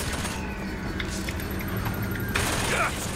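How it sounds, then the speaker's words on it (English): Gunfire in the Bioshock Infinite video game, a steady wash of shots and booms blending with game sound effects throughout, with a voice talking over it. "Quit shooting at me!"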